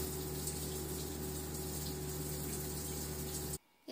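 A shower runs in a steady, close rush of water that holds even and continuous, then cuts off abruptly near the end, leaving near silence.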